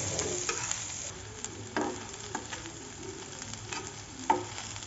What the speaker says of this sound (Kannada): ಸ್ವಲ್ಪ ಎಣ್ಣೆ ಹಾಕಿ ನೀಟಾಗಿ ಹುರ್ಕೊಳ್ಳೋಣ ರೀ ಸ್ವಲ್ಪ ಕ್ರಿಸ್ಪಿ ಆಗೋಗಿ